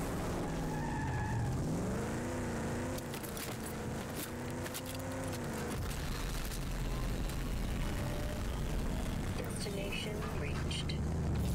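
A car in the video game Rage 2 driving hard, its engine revving up and down while the tires squeal and skid, loud and continuous throughout.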